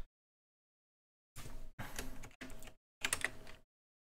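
A computer keyboard clatters in four quick bursts of typing after a silent stretch as a short chat message is entered, close and moderately quiet, with no voices.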